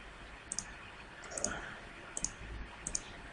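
A computer mouse clicks while a user models a building in Revit architecture software. Four crisp double clicks sound close and sharp at fairly even intervals over quiet room tone, with no voices.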